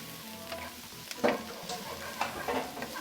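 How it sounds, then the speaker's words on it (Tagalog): Onion and garlic sizzling in a pan under a soft, steady frying hiss, with a few light scrapes and taps of a utensil stirring them. "pagluto na ang ating mga bawang at sibuyas"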